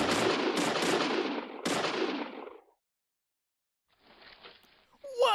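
Rapid bursts of video game gunfire in a Pokemon-themed game, a loud rattling volley that stops abruptly, then a short silence followed by fainter scattered game effects.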